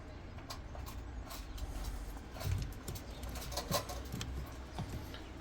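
Crested silver pigeons in a coop give a few soft, low cooing calls over steady background noise, with one louder coo near the middle.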